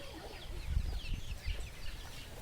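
Country-breed chickens cluck softly and intermittently over a steady background hiss, with low, muffled thumps and shuffling underneath.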